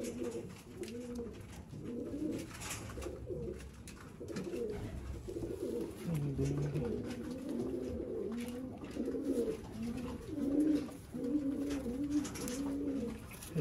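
Ferozpuri pigeons, kept for sale in Sialkot, coo repeatedly in soft, rhythmic, rolling phrases, close by and moderately quiet against faint background noise.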